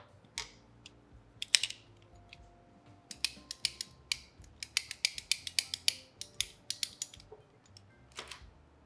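Motorcycle oil lines on a Sportster are snipped to length with a tool, giving a run of faint, sharp clicks and snaps in an irregular rhythm, close up and without voices.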